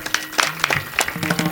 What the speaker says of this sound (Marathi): टाळ्या वाजवल्या.